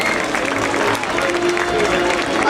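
A crowd at a falconry show applauds a royal buzzard, dense steady clapping filling the space with cheers and voices mixed in, fairly loud and continuous throughout.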